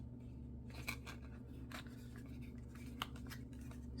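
Scissors snip paper for a mini journal with several quiet, crisp cuts spaced irregularly over a low steady hum, close and faint.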